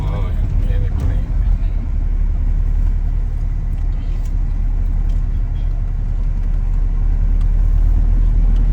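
Cars and other traffic rumble along the Tirupati hill road as the vehicle climbs, a steady low engine and road drone, with people talking over it.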